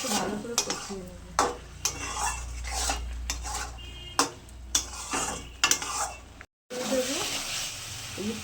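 A spice mixture with salt is sautéed in a pan for ghugni, with a spoon scraping and clinking repeatedly against the metal over a low sizzle. The sound cuts out briefly near the end.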